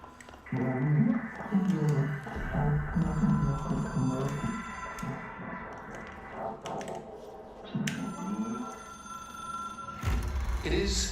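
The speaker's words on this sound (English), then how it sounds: "It is a phone. It's an object of power." A telephone rings in the game Control, repeated ringing tones at moderate level with clicks and game ambience around them.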